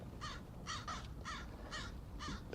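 Crows cawing, about six harsh caws in an irregular series over a constant low rumble of background noise, moderately distant.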